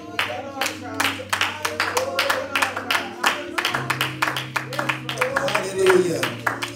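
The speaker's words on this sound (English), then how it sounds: "Can we just clap our hands for him today?" A church congregation claps hands in a steady, rhythmic beat during a worship service, the sharp claps fairly close and running under voices and sustained music.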